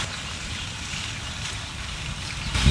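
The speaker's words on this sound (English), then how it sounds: "It's very windy out here." Steady, rushing wind buffets the microphone outdoors at Hollywood Forever Cemetery among graves and a broken angel statue, a continuous broadband roar with a brief louder gust near the end.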